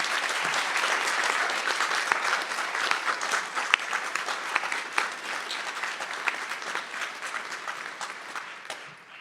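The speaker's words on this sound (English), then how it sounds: "Let us join in applause for our graduating class." A large commencement crowd applauds the graduating class at a spring morning ceremony, producing dense sustained clapping that gradually thins and fades toward the end.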